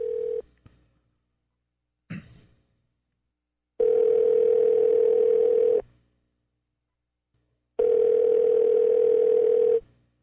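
A phone call to Australia ringing out: a short opening beep, then two long, steady, loud ring tones separated by silence.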